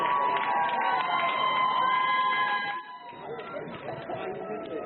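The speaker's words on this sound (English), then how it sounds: "Target employees were cheering as the first people in line walked through the doors at 6 o'clock" Target employees at an Eagle Rock store cheer as the first Black Friday shoppers walk through the doors at 6 a.m., a loud, steady crowd roar and chatter that eases slightly partway through, with a voice talking over it.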